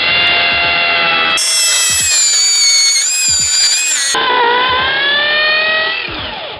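Buildskill power drill running in hammer mode while boring a hole, a loud continuous whine whose pitch shifts as it starts, bites and strains through the material, steady and close throughout with a few knocks.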